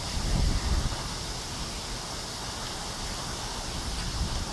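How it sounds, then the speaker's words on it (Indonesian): Strong wind blows steadily in a broad, rushing roar with gusty buffeting on the microphone, heard from indoors on a second floor during rain, with no voices. "Anginnya kenceng."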